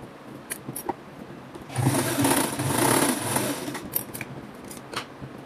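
An overlock sewing machine stitches a small piece of fabric for a flared dress, running in a fast whirring burst of about two seconds between quieter clicks and handling.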